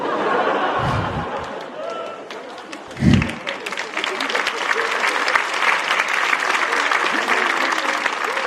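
Audience at a stand-up comedy show bursts into sustained clapping after a brief pause, a dense, even roar of many hands with faint laughter and chatter mixed in.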